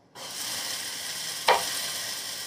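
Potatoes drop into hot oil seasoned with nigella and five-spice and break into a sudden, steady sizzling hiss up close, with one sharp crackle partway through.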